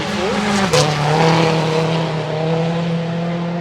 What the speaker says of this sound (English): As we hear the next car coming through.